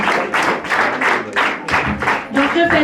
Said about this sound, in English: Please welcome him with a big round of applause, all of you.